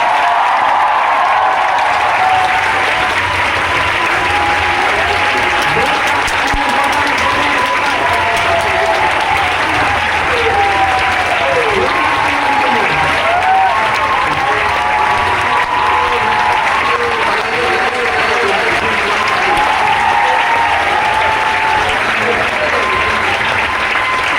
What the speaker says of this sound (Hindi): जोरदार तालियों से मैं बुलाना चाहूंगा आवर डायनेमिक लीडर।